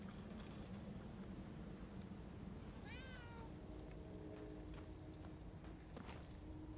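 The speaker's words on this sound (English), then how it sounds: "There's a cat around here somewhere. I heard it." A cat meows once in Murdered: Soul Suspect, a short wavering cry at mid-distance over a steady low ambient hum of rain and wind.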